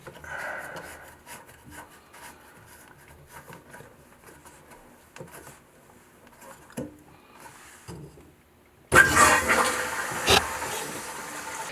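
After a new toilet is installed, its tank refills with water; quiet rubbing and handling noises give way to a sudden loud rush of flowing water that continues steadily to the end.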